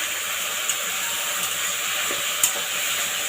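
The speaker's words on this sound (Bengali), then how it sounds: "মশলার জলটা দিয়ে আমি এই যে মশলাটা কষছি" Bengali spice paste being fried down in a pan for katla fish and okra curry, a steady soft sizzle with faint stirring clicks, close and continuous with no talking.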